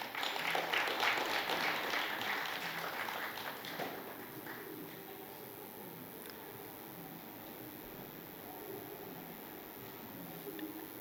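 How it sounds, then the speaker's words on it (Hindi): An audience at a stage play gives a burst of clapping that is strongest for the first few seconds, then fades out, leaving a quiet room with a faint steady hum. "एक जोरदार ताली हो जानी चाहिए भैया।"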